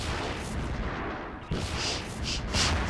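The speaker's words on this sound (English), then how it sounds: "Cool it with the rockets." Rockets explode in Half-Life 2: Episode 1 with a dense, continuous roar of blasts and rumbling booms, loud and close, swelling in a few sharper bursts near the end.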